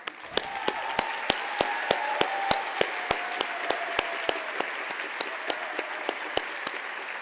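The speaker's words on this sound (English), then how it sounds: "I'd like us to give a round of applause to the" Audience applause at an awards dinner for public leadership honours, a dense sustained crowd clapping with a few sharp, regularly spaced louder claps standing out up close.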